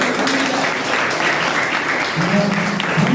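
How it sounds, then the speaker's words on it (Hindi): Loud applause from an education event audience welcoming the founder, a continuous spread of clapping with voices and faint tonal sounds mixed underneath. "जोरदार तालियों से स्वागत"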